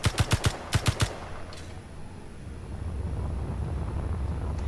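Video game gunfire in a Mars base level: a quick burst of four sharp shots, a short pause, then three more, all in the first second. After that only a low rumbling ambience remains, with no talk.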